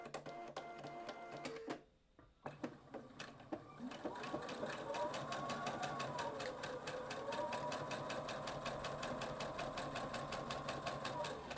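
A sewing machine stitches diagonally across a quilt block, starting with a few short bursts, a pause, then a fast, steady mechanical whir with rapid needle clatter and a soft voice underneath.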